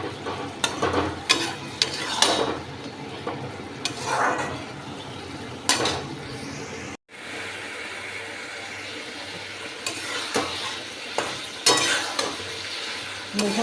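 Food frying and being stirred in a pan for a poppy seed recipe, with loud sizzling and repeated scraping strokes of a utensil against the pan. There is a brief break halfway through, and no voices.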